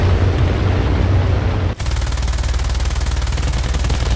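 Aircraft machine gun fire in the War Thunder air combat game, a loud, continuous rapid stream of shots that breaks off for an instant and then resumes steadily, with no voices.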